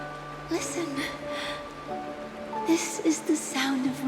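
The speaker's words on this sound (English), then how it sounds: "This is the sound of rain." Steady rain falling in Honkai: Star Rail, a soft continuous patter under a quiet musical drone, with a voice speaking intermittently over it.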